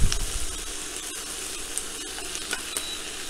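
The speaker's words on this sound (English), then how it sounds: "Fry this up a little bit." Asparagus and broccoli frying in a pan give a steady, close sizzle with faint stirring clicks throughout, and no one speaks.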